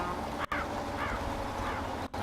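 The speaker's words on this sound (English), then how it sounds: "as I scare the crows and as they dissipate off the screen" Crows scared into flight in the truck-driving game Spintires, faint scattered caws and flapping over a low ambient rumble, a few calls spaced across the moment.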